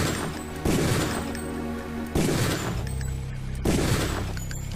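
Gunfire in the video game Deus Ex: three loud, heavy shots about 1.5 seconds apart, each bursting out and then ringing into a sustained droning tail over a constant game background.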